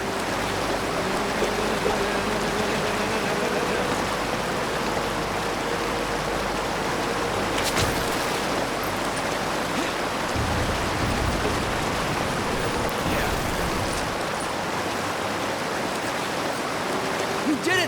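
Water flows steadily in the Lego Ninjago Movie video game, a continuous rushing wash through the whole stretch. Low game tones and brief sound effects sit underneath it.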